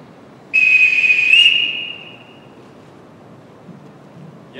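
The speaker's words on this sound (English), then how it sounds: "Everyone in this house answers to a whistle." A loud, sustained single blast on a whistle, sounded as a household summoning signal during a stage musical of The Sound of Music, holding steadily for nearly two seconds before fading.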